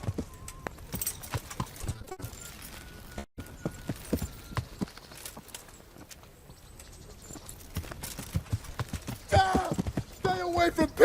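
Horse hooves clip-clopping in the video game Kingdom Come: Deliverance, irregular clopping steps near at hand, with bursts of other game noise and a voice toward the end.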